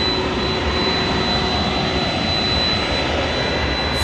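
A Cargolux Boeing 747-8 cargo jet, flight 8 from Anchorage, roars at night at DFW Airport as a loud, steady, broad engine rumble that fills the whole stretch without letup.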